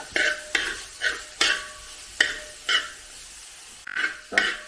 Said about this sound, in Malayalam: ക്യാപ്സിക്കം കൂടെ ചേർത്ത് കൊടുക്കാം ക്യാപ്സിക്കം ഒന്ന് ചൂടായി വന്നാൽ മതി